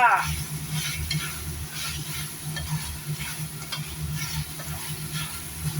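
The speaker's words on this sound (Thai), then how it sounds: "ใส่เครื่องทุกอย่างผัด เข้าไปแล้วก็ผัดจ้า" Pork belly is stir-fried with shrimp-paste chili paste and pea eggplants, giving a loud continuous sizzle under constant scraping stirs. A low hum runs beneath it.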